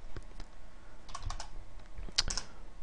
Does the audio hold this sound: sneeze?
no